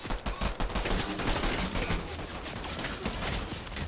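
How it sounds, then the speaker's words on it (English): Sustained bursts of automatic gunfire in a Fortnite firefight, dense and continuous, moderately loud and fairly close, with little talk. "They're shooting at me"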